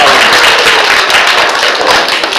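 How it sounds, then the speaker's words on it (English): Dense, loud applause fills a library room as an audience claps for a child who helped at a magic show, a continuous wash of many hands from start to finish. "Give Grace a big round of applause for helping me out."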